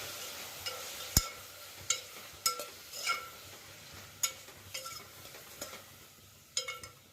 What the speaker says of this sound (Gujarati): આની અંદર આવી રીતે હલાવીને